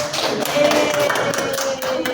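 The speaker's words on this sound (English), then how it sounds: "give applause to Leo" Classroom applause for a student presenter, a dense, steady patter of many hands clapping together, close and fairly loud, lasting a couple of seconds.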